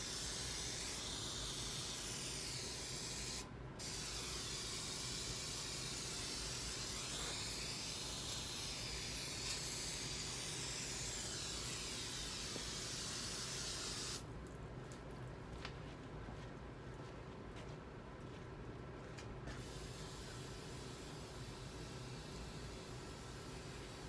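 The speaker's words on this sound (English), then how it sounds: "I need to drench that thing with brake clean." Brake cleaner aerosol sprayed up onto the rack and pinion of a 1999 Ford Taurus, a steady, close broadband hiss running nearly continuously, with a brief break early and a rougher, sputtering stretch later.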